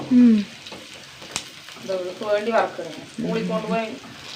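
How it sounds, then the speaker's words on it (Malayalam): Ivy gourd fries in hot oil in a Kerala home kitchen, giving a steady sizzle with stirring, while someone talks over much of it. "എണ്ണ വെച്ച് കൊടുക്കട്ടെ ഒന്ന് വറുത്തെടുക്കട്ടെ വറുത്തെടുക്കട്ടെ വറുത്തെടുക്കട്ടെ കോവയ്ക്ക വറുത്ത് കഴിഞ്ഞാ"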